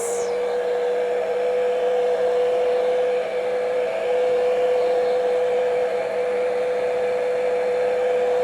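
A hair dryer runs continuously at close range, drying a painted Christmas piece with a steady whooshing roar and a constant motor whine throughout.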